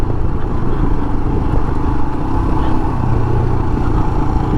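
A Royal Enfield Himalayan motorcycle engine held at high RPM while riding, a loud, steady, dense rumbling drone with wind-like roar throughout, close and continuous.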